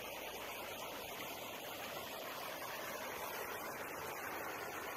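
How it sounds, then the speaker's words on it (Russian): A mountain stream in the Kabardinka river gorge near Kislovodsk rushes in a constant broad hiss, close and unbroken, with no one talking. "Ручей."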